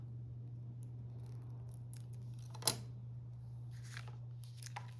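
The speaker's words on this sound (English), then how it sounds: "so I'm going to just cut it in half." Scissors make one sharp, close snip and a few faint follow-up cuts as a piece of card stock is cut in half for a handmade card, over a steady low electrical hum.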